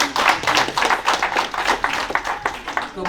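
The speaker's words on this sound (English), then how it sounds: "Round of applause." Small group clapping at a ribbon-cutting ceremony for a renovated children's library room, with distinct individual hand claps close by in an uneven patter; a brief voice surfaces under the clapping.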